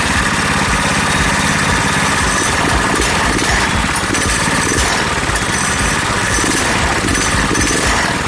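A Tecumseh KT196 single-cylinder go-kart engine runs loud and close, a rapid chugging putter with fluctuating revs throughout.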